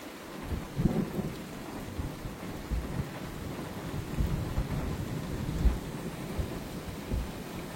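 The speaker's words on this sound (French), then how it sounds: "Tu m'as entendu l'orage?" A thunderstorm: low rumbling thunder rolls under steady rain pattering on a surface, with a few louder low booms, fairly distant and soft overall.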